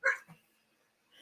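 A small dog gives a sharp close bark followed by a softer yip, then another short bark, loud and near.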